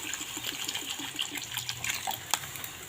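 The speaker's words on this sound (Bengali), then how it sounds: "আমি এর মধ্যে জল দিয়ে দেব, কিছুটা পরিমাণে জল দিয়ে দেব" Water poured into a fish curry cooking in a pan, a soft, fairly close splashing and gurgling with a few short bursts, heard alone without talk.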